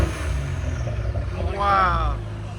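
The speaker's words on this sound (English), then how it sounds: "I can hear the turbos again." A 2020-2024 Ford Explorer ST with a 3.0L twin-turbo V6 and its exhaust valves open revs: a low engine rumble swells into a rising, harmonic-rich rev with turbo whine, under people talking.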